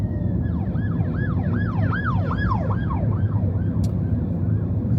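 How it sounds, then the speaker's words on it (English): An ambulance siren wailing in rising and falling sweeps over the low rumble of motorway traffic in Auckland, fairly close and loud. "I see we've got an ambulance coming up behind us."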